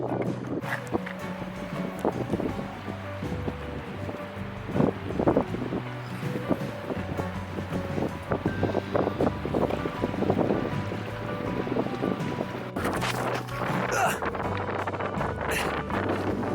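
Strong wind blows across a jet outboard jon boat on the Bow River in early spring, buffeting the microphone with rumbling gusts and irregular knocks and splashes against the hull.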